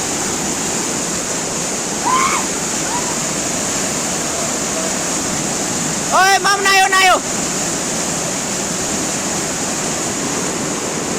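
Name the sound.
strong mountain stream water rushing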